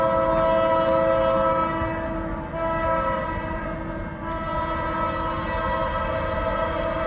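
CN freight train Q119, led by rebuilt AC44C6M locomotive 3403, rolls past at Ladysmith, Wisconsin, a loud, close, sustained rumble with a steady horn-like tone and rail noise throughout.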